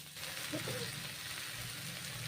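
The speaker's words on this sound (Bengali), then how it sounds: "বাঁধাকপিগুলো নেড়ে চেড়ে ভেজে নিচ্ছি" Chopped cabbage sizzling in hot oil in a pan as it is stirred, a steady soft frying hiss with a faint scrape of stirring, quiet and close.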